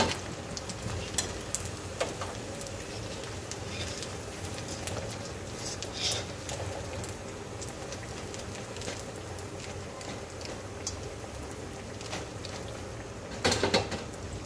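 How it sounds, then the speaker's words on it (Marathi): Sabudana vada deep-frying in hot oil, a steady crackling sizzle with bubbling pops running throughout, close and even, with a brief louder burst of crackle near the end. "फक्त याला कलर येस तोपर्यंतच याला तळून घ्यायचं आहे."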